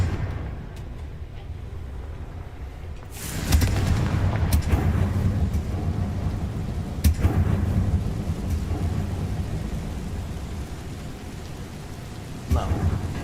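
Loud spell blast from the Confringo fire curse in a Harry Potter wizard video game, a heavy rumbling boom that erupts suddenly and lingers with crackling debris, followed by a smaller sharp burst and another near the end.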